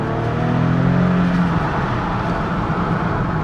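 Inside an Infiniti M35h hybrid saloon, the engine's drone swells and then eases as gears are changed manually, a steady close cabin roar without speech.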